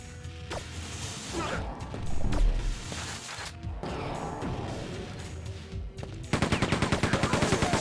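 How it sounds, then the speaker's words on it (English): Rapid machine gun fire from Quake II bursts in over loud game action and impacts, settling into a steady fast rhythm of shots near the end. "only downside of machine gun is it's quite a rapid fire gun, so it's not very accurate to aim."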